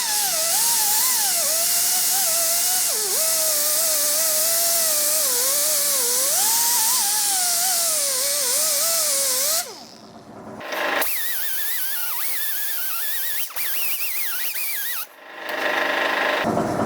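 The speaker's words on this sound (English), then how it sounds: "This is my fancy deburring tool." A small deburring tool grinds against metal with a loud, high, wavering whine that shifts in pitch under load, cuts out briefly, then returns in shorter bursts with no talking.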